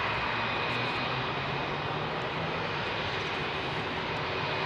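An aircraft roars at Heathrow Airport on runway 27R, a loud, steady jet-engine rumble that holds unbroken and close throughout.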